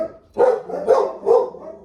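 Dogs bark three times in a steady rhythm, loud and near, as the garbage pickup comes by.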